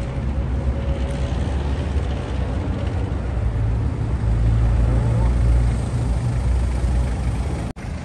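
A Hyundai Porter truck drives along, its engine a steady, close, low rumble that holds evenly for several seconds before a brief dropout near the end.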